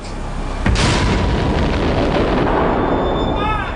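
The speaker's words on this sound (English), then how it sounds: "An explosion." An aerial torpedo striking a ship during the Battle of Midway in the Pacific, erupting into a loud, roaring blast that rumbles on heavily for several seconds.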